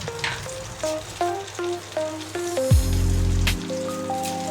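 Hot oil sizzles and spits in a kadai while aubergines are fried for a Bengali hilsa dish, a soft crackling hiss that swells into a loud, steady sizzle midway and then settles back down.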